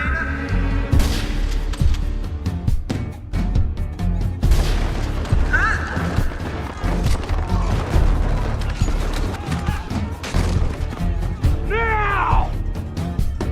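Gunfire as Merle shoots down a group of Saviors, bursts of shots and impacts mixed with shouting voices and dramatic noise throughout.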